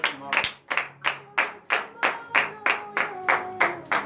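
Congregation at a morning prayer service clapping together in a steady rhythmic beat, about three claps per second, loud and close, with faint voices and cheering mixed in.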